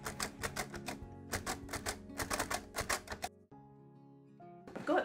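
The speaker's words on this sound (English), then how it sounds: "roll the paper in, and braille the pupil's name." Perkins brailler keys clatter in quick rapid bursts of mechanical strikes as a name is brailled, followed by a brief pause with low hum and a final rattle of the carriage.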